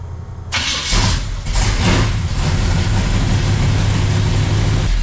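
A 1971 Chevelle engine with a slight exhaust leak at the manifolds or collector cranks and fires, revving loudly at first before settling into a deep, rumbling idle close by.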